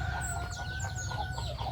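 Backyard flock of native chickens, hens clucking in short bursts with a rooster crowing nearby, all fairly faint and brief.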